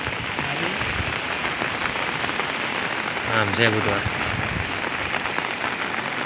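Steady rain falls at a village temple site in Gujarat during a heavy downpour, a dense constant hiss throughout with people talking over it.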